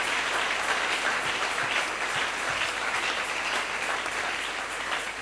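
A church congregation applauds at an evangelistic service, with dense, sustained clapping from many hands filling the room at a steady level from start to finish.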